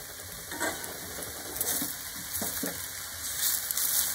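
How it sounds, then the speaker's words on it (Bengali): Hot water pours into a simmering pan of jackfruit shukto, a steady watery hiss with soft splashes and a few light knocks, all close by. "এর মধ্যে আমি যোগ করে দিলাম প্রয়োজন মতো গরম জল।"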